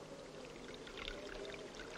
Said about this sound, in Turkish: Ben saçlarımı ıslatıyorum sadece